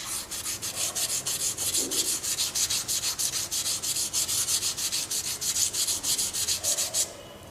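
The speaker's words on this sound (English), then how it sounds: "the 400 grit abrasive is going to give us the correct surface finish that's recommended for aluminum" Aluminum is sanded by hand with 400 grit abrasive in quick, regular back-and-forth strokes, each one a close, dry, hissing rasp in a steady rhythm.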